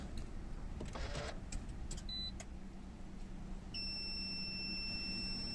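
Toyota Yaris Hybrid powering on in a quiet setting, with faint clicks and rustles followed by short electronic chimes and a sustained thin beep tone signalling ready.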